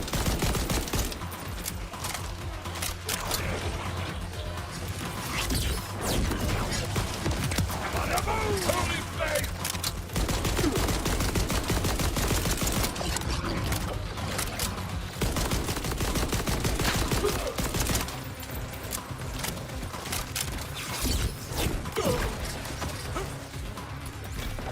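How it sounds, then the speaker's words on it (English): Dense rapid gunfire from Borderlands 4 video game combat, continuous bursts of shots with mechanical clanks and impacts throughout, loud and close, with a player talking over it. "So many bullets."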